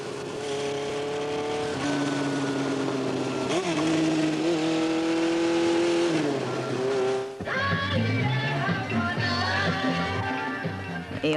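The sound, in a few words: street traffic noise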